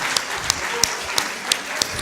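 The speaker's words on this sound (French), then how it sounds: "On n'arrête pas les applaudissements tant qu'ils ne sont pas tous ici" Scattered applause at the RFC12 2017 closing ceremony: a thin bed of clapping with sharper individual claps popping out roughly every third of a second.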